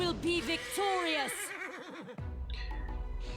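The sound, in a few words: undead horse neighing in Pathfinder: Wrath of the Righteous video game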